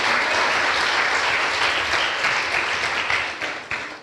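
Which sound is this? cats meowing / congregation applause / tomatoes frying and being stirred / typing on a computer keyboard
congregation applause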